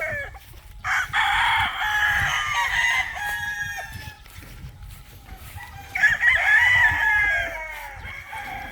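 Stag chickens crow loudly and close by, with one long rooster crow followed by a second after a pause, over low background noise on a farm.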